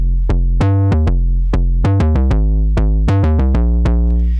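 Distorted electric guitar with a saturator placed after the distortion pedal, a loud, close run of picked notes ringing with dense, gritty harmonics and a steady attack-by-attack rhythm, no voices.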